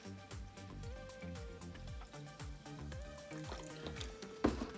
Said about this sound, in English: I got another bottle of water, which I am going to pour over this.